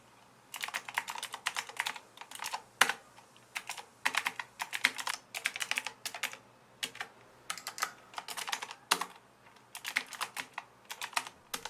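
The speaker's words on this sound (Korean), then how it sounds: "이와 같은 비슷한 타자기와 비슷한 타건감을 가진 키보드를 한번 구매해 봤습니다" Rapid clacky keystrokes on a Qwerkywriter typewriter-style mechanical keyboard, typed in bursts with short pauses, close up and fairly quiet, with no talking.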